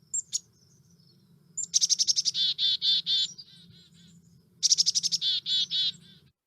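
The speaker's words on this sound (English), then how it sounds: "Nice call. Chickadee DD call." A chickadee gives its chick-a-dee-dee call twice, each a quick burst of high notes followed by a run of buzzy dee notes, clear against a low background hum.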